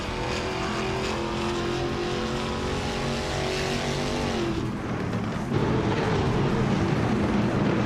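Camaro race cars roar around the Barber circuit, a loud sustained engine drone with rising and falling pitch as the cars pass, shifting as another car sweeps through near the end.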